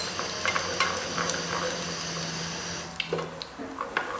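Butter sizzles in a small pan for red lentil soup as chili powder is added, making a soft, crackling fry with a few light clinks and stirs that ease off near the end.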